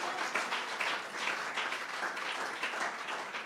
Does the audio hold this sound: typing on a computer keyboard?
no